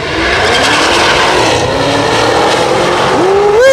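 A Cadillac CTS race car makes a pass at a track day at Union Grove, with loud, sustained engine roar from close by and a rising whine near the end as it accelerates.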